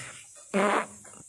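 A single loud, brassy fart bursts out for about a third of a second, standing out sharply against a quiet room with no talking over it.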